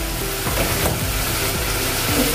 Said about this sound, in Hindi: अभी टमाटर को भी हमने थोड़ा देर भून लिया है